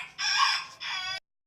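A rooster crows loudly and close by in two long, strong bursts, with nothing else heard around it.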